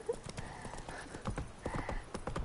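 Horse hooves clip-clop steadily along a road in The Witcher 3: Wild Hunt, a quick rhythmic patter of game footfalls close by, with an occasional faint whinny mixed in.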